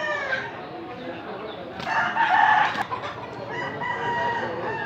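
Chickens and roosters fill a poultry market in Consolacion, Cebu, with a loud crow rising over constant clucking and crowd murmur, close and busy throughout.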